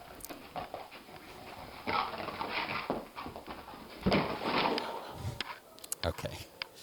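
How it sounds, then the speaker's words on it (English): A sleeping puppy dreaming in REM sleep gives soft, intermittent whimpers and pants, with faint rustling and a few sharper bursts near the end, close by in a quiet room. "So this dog is sound asleep in rapid eye movement, dreaming sleep."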